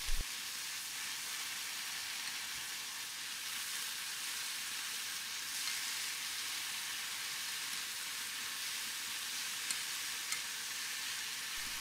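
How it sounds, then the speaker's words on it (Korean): Blanched potatoes and thin-sliced onions fry in an oiled skillet, giving a steady, dense sizzle that holds evenly for the whole stretch, close and unbroken, with no voices. "기름을 두른 후라이팬에 데친 감자와 채 썰어 놓은 양파를 넣고 볶아주세요"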